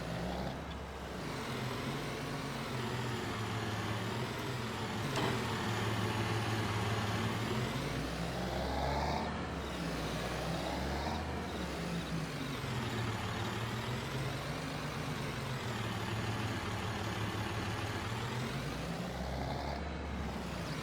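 A tractor engine runs steadily in Farming Simulator 22, a loud continuous drone whose pitch rises and falls in slow waves as the engine revs, with no talking over it.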